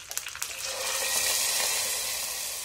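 A hot tempering of cumin, dried chilli and curry leaves poured into Kerala-style tomato rasam: a few quick spatters, then a loud, close hiss that swells and holds steady, with no talking.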